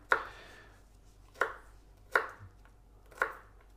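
Four sharp knife chops on a cutting board, about a second apart, close and clear with no talking, while prepping a sous vide lamb dish with butter, rosemary and garlic.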